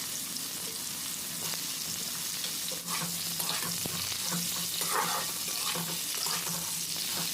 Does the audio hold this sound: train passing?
no